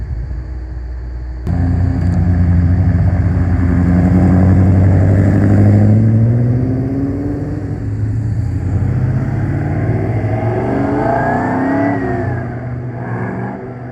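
A Cobra 427 sports car engine rumbles loudly and steadily, revving up and then easing off as it drives past on the road at Le Mans Classic, with a low throaty growl throughout.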